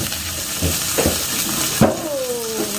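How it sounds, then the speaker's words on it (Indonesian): Meatballs, meat and sausages fry in a wok for kwetiau goreng while being stirred, a close, loud sizzle with a few scraping strokes of the utensil and a sharp clatter near the end. "bakso, daging, dan sosisnya ini semua kayak gini. Saya aduk-aduk."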